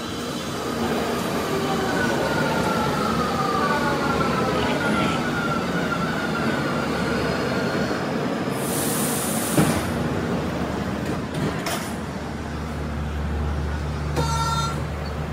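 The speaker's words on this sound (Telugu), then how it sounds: "సో మెట్రో వస్తుంది." An early-morning metro train pulls into a station in Italy with a loud, sustained rumble and wheel noise, a brief high hiss, and a few sharp clanks near the end.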